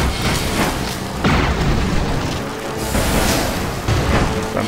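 Heavy booms and blasts pound a tower under fire in the airship strategy game Airships: Conquer the Skies, a dense, continuous rumble of loud impacts swelling in repeated waves with no talk.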